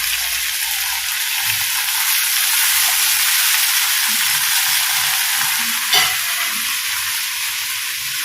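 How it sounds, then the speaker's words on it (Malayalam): Beans and tapioca sizzle loudly in a hot pan, a steady frying hiss throughout, with soft stirring scrapes beneath and one brief clink, recorded close and without speech. "ഇത് എല്ലാം കൂടി നന്നായി മിക്സ് ചെയ്യും."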